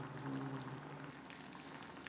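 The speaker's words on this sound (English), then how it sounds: "Simmer for 5 minutes." Squash soup simmering in a pan, a soft steady bubbling hiss with a faint low hum, close and quiet throughout.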